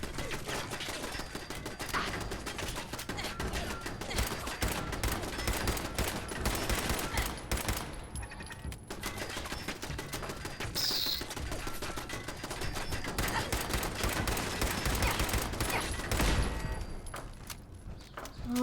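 Turret gunfire in a video game, dense rapid bursts of automatic shots rattling almost continuously for many seconds, loud and close, with a short lull partway through.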